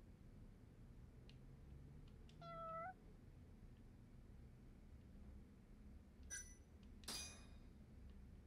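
A cat meows in the video game Judgement, a short rising call followed a few seconds later by two brighter, sharper meows, heard alone over a quiet low room hum.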